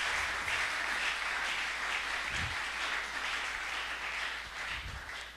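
Church congregation applauding in a sustained, steady wash of clapping at a Pentecostal-style service, with a few low thumps, no voices standing out.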